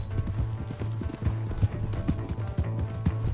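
Horse hooves clatter in a fast, rhythmic clip-clop gallop in the Red Dead Redemption 2 video game, close and steady, with faint background noise.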